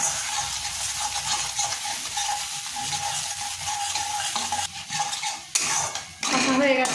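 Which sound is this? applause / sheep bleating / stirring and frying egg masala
stirring and frying egg masala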